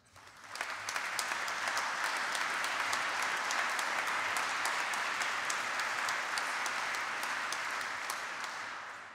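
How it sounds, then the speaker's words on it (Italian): Applause swells quickly at a public business assembly of Confindustria Piacenza, then holds as a dense, even wash of many hands clapping in a large hall before easing slightly at the end, without talk over it. "a cui io e credo anche tutti noi dobbiamo un grande applauso"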